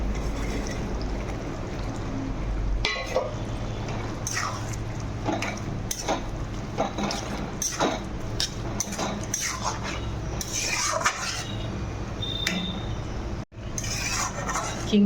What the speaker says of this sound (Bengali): এবারে ভেজে রাখা চিংড়ি মাছগুলো সব দিয়ে দেবো।